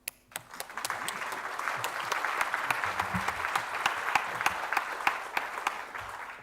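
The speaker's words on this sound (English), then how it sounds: "let's give a big round of applause for our general chairs" Audience applause for the general chairs at the ICT4S sustainability conference, a dense steady burst of clapping with a few sharp louder claps, sustained for several seconds at close range.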